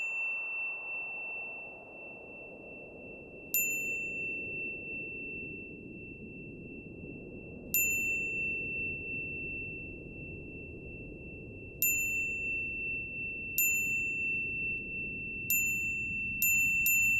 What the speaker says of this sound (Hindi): मेरी घंटी बजती जा रही है।